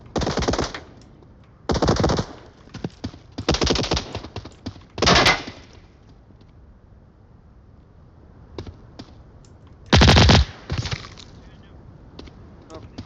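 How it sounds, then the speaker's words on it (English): Rapid automatic gunfire in a competitive video game match, coming in several loud, sharp bursts separated by quieter stretches, with fainter distant shots in between. "They're shooting at each other"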